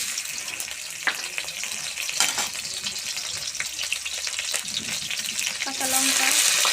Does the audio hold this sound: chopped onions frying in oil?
yes